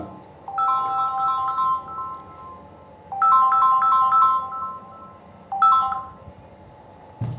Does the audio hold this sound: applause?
no